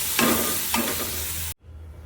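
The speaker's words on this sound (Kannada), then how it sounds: "ಸ್ವಲ್ಪ ಉಪ್ಪನ್ನು ಕೂಡ ಹಾಕ್ಕೊಂಡು ಚೆನ್ನಾಗಿ ಫ್ರೈ ಮಾಡ್ಕೊತೀನಿ ಇದನ್ನು" Ground masala and salt frying in a pan with a loud, close, continuous sizzle, broken by two spatula scrapes, before the sound cuts off abruptly near the end.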